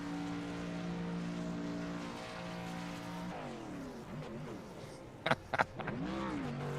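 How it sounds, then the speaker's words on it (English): Racing truck doing celebratory burnouts and donuts at Bristol in a racing video game, a steady rumbling engine drone that shifts and wavers as the truck spins, with a couple of sharp bursts near the end. "You gotta love some celebratory donuts, burnouts."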